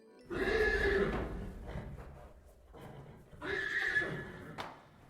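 A horse neighs twice, two loud, drawn-out whinnies separated by a short pause, the second trailing into snorting breaths; close and clear with no speech.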